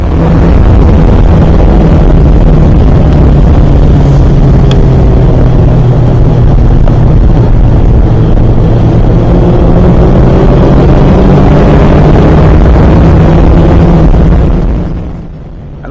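A classic Formula Ford race car engine, heard from the cockpit at a Brands Hatch race start, revs in a loud sustained roar held near constant, with pitch sweeps and other cars around.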